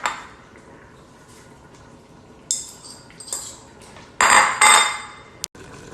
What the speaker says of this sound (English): So I'm gonna go ahead and throw my chicken back in.